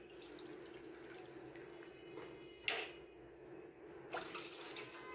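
About two cups of water go into a cooking pot for suji halwa, a faint, quiet trickle and splash with a couple of brief louder gushes, no talking.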